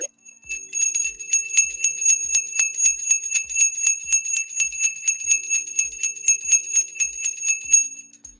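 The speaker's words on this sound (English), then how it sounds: "So I'm ready to ring the bell." A bell rings continuously for the US stock market open, a bright, rapid metallic ringing held steady for several seconds with faint low tones beneath and no talking.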